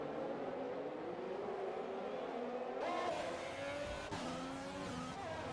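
Race cars in the F1 2020 video game roar along a long straight on the Hanoi circuit, with loud, steady engine whine rising in pitch as they accelerate and another car's engine joins close behind.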